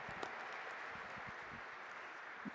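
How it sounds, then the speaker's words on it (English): A crowd applauds the newly crowned champion at the Canadian Women's Open squash event, with steady clapping from an arena audience at moderate distance. "One last big round of applause for Amina Orfi, your new Canadian Women's Open champion."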